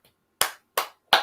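Three sharp, loud hand claps spaced evenly about a third of a second apart, from a lone person applauding indoors, with no voices alongside.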